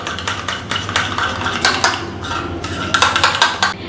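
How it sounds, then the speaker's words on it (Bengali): A spoon whisks sour curd (yogurt) in a bowl, sending a busy run of scraping, clinking strokes close up and fairly loud with no break; no talking. "প্রথমে দইটাকে ভালো করে ফেটিয়ে নিতে হবে।"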